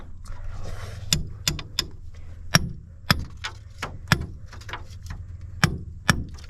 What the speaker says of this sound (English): I can actually hammer the thing in.